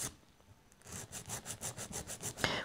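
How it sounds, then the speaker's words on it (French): Acrylic resin nails being filed with a nail file, a close rhythmic scraping of steady back-and-forth strokes that start faint and grow louder, with no talking. "Vous voyez que je lime aussi en dessous, tout simplement"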